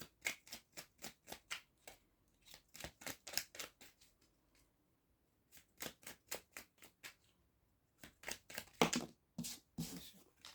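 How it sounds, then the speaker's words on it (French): Tarot cards are shuffled by hand at close range in quick bursts of sharp, rapid riffling clicks and slaps. Brief pauses separate the bursts, and no one speaks over them. "Un petit mélange."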